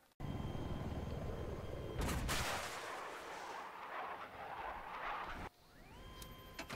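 A TV missile explodes in a video game with a loud, roaring burst that sustains for several seconds before cutting off, followed by quieter whirring game sounds.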